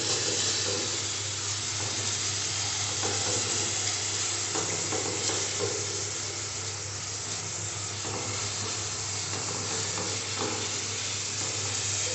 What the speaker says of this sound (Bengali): হাফ চামচ কাশ্মীরি মির্চ দিয়ে সমস্তটা ভালো করে এবার কষাবো